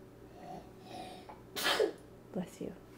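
A single sharp sneeze bursts out close by, followed by a couple of softer breathy sounds.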